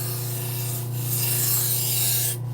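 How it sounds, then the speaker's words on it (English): Steady abrasive rubbing of a knife blade against a spinning 600 grit sharpening wheel, moving a burr along the edge; a continuous close hum with a brief lift-off near the end, no talking. "So here's where the 600 grit wheel really comes into play."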